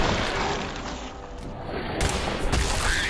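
Gunfire in Fallout 4 erupts as a loud, dense barrage of booming shots and crashing impacts, sustained with a sharper burst near the end, no talk.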